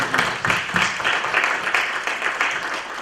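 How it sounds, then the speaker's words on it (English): An audience at a Kean Connect panel event on financial health applauds the organizers with even, continuous clapping from many hands, moderately loud and sustained throughout. "so I just want to give them a round of applause"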